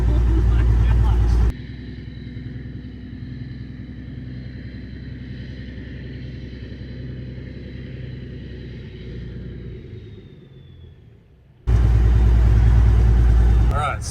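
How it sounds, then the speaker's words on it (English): Engine of a 1984 Peterbilt 359 semi truck, a steady low mid-pitched drone and rumble while driving, running continuously for about ten seconds between louder bursts at the start and end. "I'm driving a semi truck."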